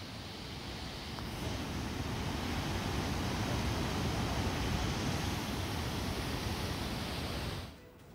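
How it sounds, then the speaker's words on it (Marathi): Someshwar waterfall in Nashik roaring with heavy monsoon flow, a dense, steady broadband rush close by that holds constant before dropping off at the very end. "सोमेश्वर धबधब्याचा प्रवाह वाढलेला आहे"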